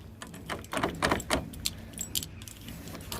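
Car keys jangle and rattle in a hand near a vehicle door, a series of close metallic shakes and clinks rising and falling over a few seconds.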